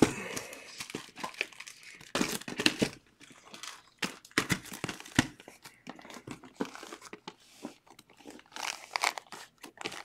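Sealed Topps trading card boxes are shuffled and mixed together on a table, giving a continuous close crinkling and rustling of plastic wrap with irregular knocks and rubbing scrapes.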